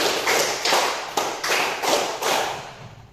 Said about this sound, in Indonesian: tepuk 3 2 kali.